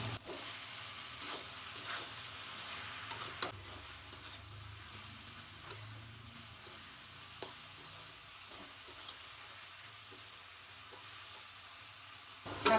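Mustard greens fry in an old blackened karahi after onion and chili, a soft continuous sizzle with occasional sharp stirring clicks and scrapes, fairly quiet and close.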